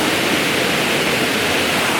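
A waterfall on Siargao Island rushes in a steady, dense roar of falling water, loud and close, with no talk over it.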